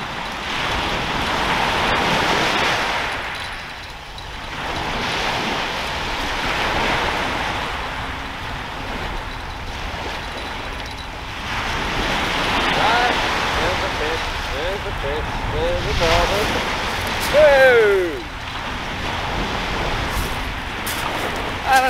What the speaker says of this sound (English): There's an awful lot of wind though.